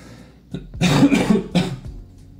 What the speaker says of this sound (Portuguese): desculpa, rapaziada, por estar tossindo. Não tô conseguindo controlar essa tosse.